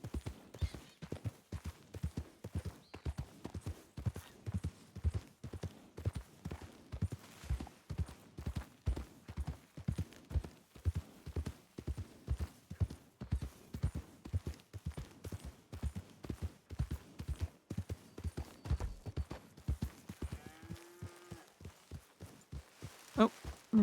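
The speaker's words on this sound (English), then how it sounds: "Oh, there's a horse." A horse walks in the WildRP roleplay video game, its hooves clip-clopping in a steady, even rhythm for over twenty seconds, quiet and close, with faint game ambience underneath.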